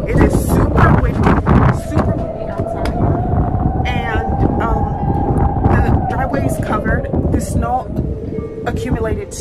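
Strong wind gusts roar in a snowstorm, buffeting the microphone as a steady heavy rumble throughout, with a person talking over it.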